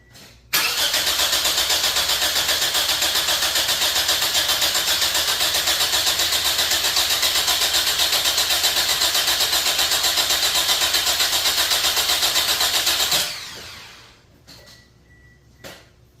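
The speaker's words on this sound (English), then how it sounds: "Pedal to the floor and crank it." An engine cranks with the gas pedal held to the floor during a compression test, the starter whirring in a fast, even, loud chug for about thirteen seconds before cutting off abruptly into quiet.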